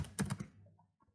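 Several quick, close keystrokes on a computer keyboard while entering text in an Excel chart, clustered in a short burst near the start, then a couple of faint taps as it trails off.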